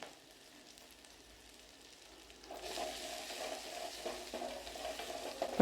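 Asafoetida powder sautéing in a hot pan for a lentil and wild spinach curry, a soft quiet hiss for the first seconds that swells into a steady, louder frying sizzle with small crackles toward the end.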